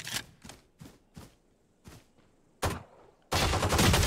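A sequence of sharp, separate gunshots in a Valorant match, several evenly spaced cracks followed by a louder shot and a sustained burst of noise at the end.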